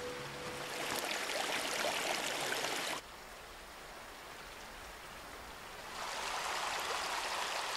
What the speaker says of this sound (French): Sa cascade, comme il dit, il la connaît bien